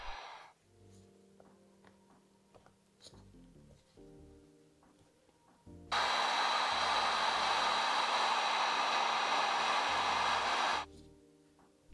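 A heat gun blasts hot air onto glue on the sole of a Jordan 13 sneaker, a loud, steady rushing roar that runs about five seconds before cutting off, with quiet handling noises before it.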